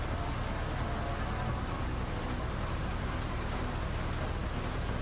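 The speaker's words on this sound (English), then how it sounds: "This is Pacific Northwest rain." Steady, dense rain falls in the Menace video game, a continuous hiss of drops on surfaces at even loudness throughout, with no speech over it.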